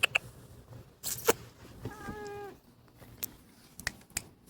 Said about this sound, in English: Meow to everybody.